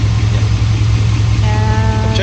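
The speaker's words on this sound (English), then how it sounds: "I just backed the car up because I wanted it leveled out to check the transmission." A car engine idles steadily after being backed up onto level ground: a loud, close, constant low rumble with a faint rising whine near the end.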